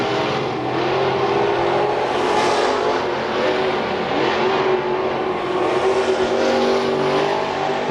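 Race cars roaring down the front straightaway at Billings Motorsports Park on the final lap, loud, close engines with rising and falling pitch as several cars accelerate past in a continuous surge.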